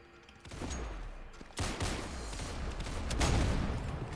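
Sniper rifle gunfire in the Roblox game Counter Blox, a few sharp, loud shots separated by short gaps, each followed by a brief rumbling tail.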